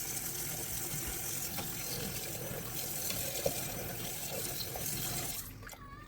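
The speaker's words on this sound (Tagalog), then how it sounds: "lagyan natin ng tubig." Water pours steadily into a cooking pot holding mixed spices and chicken powder, a continuous close gushing splash that tapers off as the flow stops near the end, with no talk.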